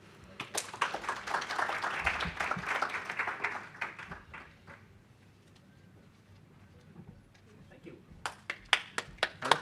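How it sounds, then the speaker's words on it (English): An audience at a research day plenary session claps after a talk, a scattered burst that thins into quiet, then a few sharp, separate claps near the end, with voices talking over it. "Round of applause."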